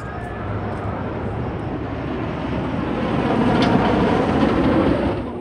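The Kingda Ka roller coaster train at Six Flags Great Adventure rumbles past as a loud, broad, steady roar that swells slightly toward the end and then eases off, without speech.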